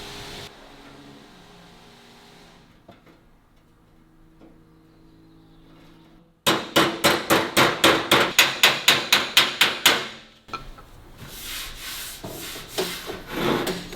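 Quick series of sharp, ringing hammer blows on a steel door panel being reshaped for a 1934 Austin 10, about a dozen strikes in steady rhythm, following quieter shop noises and leading into scraping.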